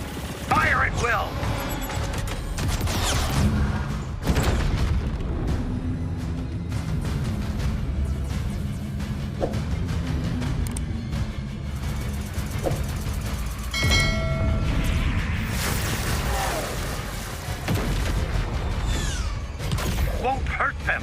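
Titanfall 2 game combat plays as a dense, continuous barrage of gunfire, mechanical clatter and blasts, loud throughout. Voices and sharp impacts cut through the noise.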